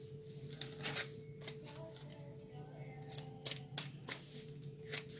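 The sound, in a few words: shuffling tarot cards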